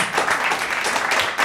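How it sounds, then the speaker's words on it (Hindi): Applause from an open mic poetry audience, a dense wash of clapping that swells and holds for a moment, fairly close and with no voices over it. "एक बार तालियां"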